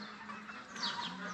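Backyard chickens clucking near an orange tree where they roost, a steady mix of soft clucks and brief higher calls running continuously without speech.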